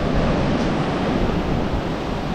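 Sea waves break and wash continuously onto the shore at Sulok Beach on Polillo Island, a loud, steady roar of surf mixed with wind noise and no talking.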